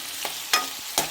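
Bottle gourd pieces with tamarind stew in a pan, a soft low simmer broken by three short stirring scrapes.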